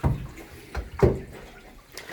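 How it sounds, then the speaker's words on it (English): Gentle shower spray from a hose runs over a dog's head during a bath, a soft hiss punctuated by a few brief splashing bursts, close and alone. "she's turned it back down to just a little nice shower for the head"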